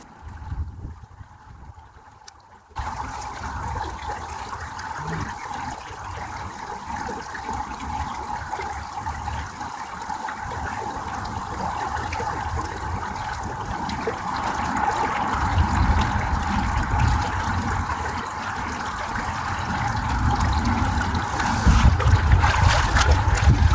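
Water swirling and sloshing in a gold pan full of creek dredge material, a continuous close washing and trickling sound that grows rougher and louder toward the end.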